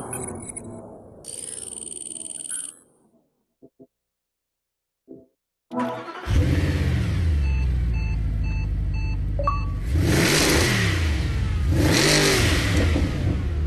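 Mercedes-Benz SLS AMG in the Forza 4 racing game: a loud, continuous engine roar that rises and falls through two big revving sweeps, preceded by a brief quieter electronic tone and near silence.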